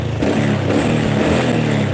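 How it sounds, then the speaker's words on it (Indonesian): Honda Supra motorcycle engine idling and revving after a standard service, a steady close, loud low mechanical hum with a lift in engine note early on. "Ini suara mesinnya standar ya"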